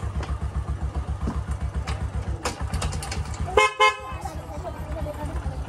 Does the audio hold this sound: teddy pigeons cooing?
no